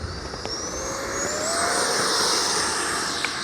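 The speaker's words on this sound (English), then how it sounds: "we're gonna take off the L-39 80mm from FREEWING" Freewing L-39 80mm electric ducted-fan RC jet taking off across a runway, a steady high whine rising in pitch as it accelerates and swells louder, heard alone with no voices.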